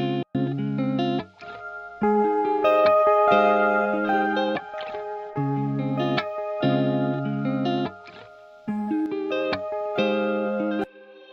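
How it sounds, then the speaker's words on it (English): Lead guitar heard in a music mix, its sustained distorted notes and chords ringing out with heavy reverb tails. It plays in phrases broken by short gaps, with no talking over it. "And these are the various reverbs."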